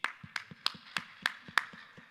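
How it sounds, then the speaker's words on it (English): A few slow, distinct hand claps at a Dubai conference session, spaced at an even rhythm with quieter taps between them, sparse and fairly close rather than a full crowd. "Your applause to she"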